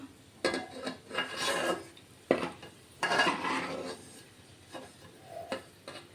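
Fried onions are scraped and lifted out of a pan with a metal utensil, giving rasping scrapes and clinks in several uneven bursts, close and fairly quiet.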